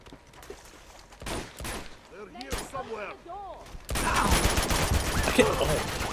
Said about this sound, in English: Do you not hear the gunfire?